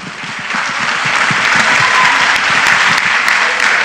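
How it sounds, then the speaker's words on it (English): An audience applauds loudly during the swimsuit parade at the Miss Philippines-Earth 2012 beauty pageant, with sustained dense clapping and light crowd noise throughout. "a round of applause, please"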